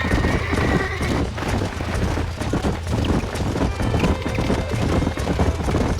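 Horses in the western game Red Dead Redemption, with a whinny and steady clip-clop of hooves throughout, along with wind and ambient noise.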